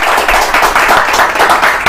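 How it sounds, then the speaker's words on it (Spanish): A studio audience claps loudly for a mayoral candidate being interviewed, dense close-up applause filling the whole short moment at an even, unbroken level. "Un aplauso nueva vez."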